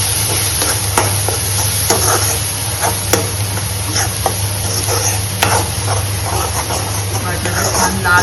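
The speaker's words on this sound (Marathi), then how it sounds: "आणि वाटण शिजेपर्यंत थोडंसं आपण गॅसवर परतवायचं." Green masala paste sautéed in a pan over a gas flame crackles with a loud, continuous sizzle, broken by repeated scraping strokes of a stirring spoon and a low hum underneath, while a voice speaks intermittently.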